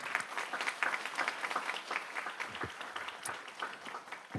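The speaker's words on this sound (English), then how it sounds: "I want a big round of applause for all of our ADs." A school board meeting crowd gives a round of applause for the athletic directors, a steady, even wash of many hands clapping, heard faintly at a distance.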